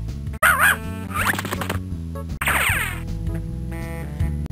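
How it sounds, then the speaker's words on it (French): A cartoon dog barks and yips several times in the Putt-Putt video game, loud and close over a bouncy game music backing with squeaky sound effects. "Bon chien Peps."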